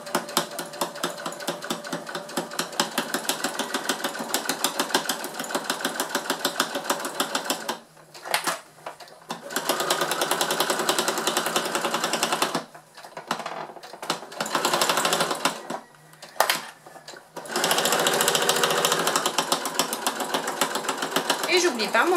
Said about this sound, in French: J'ai bien mis mon pied à fermeture éclair et donc on est parti pour la couture.